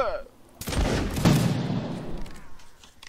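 Rapid bursts of gunfire from a competitive online shooter game crackle through a mix of overlapping shots and booms, moderately loud and irregular, with people talking over the action.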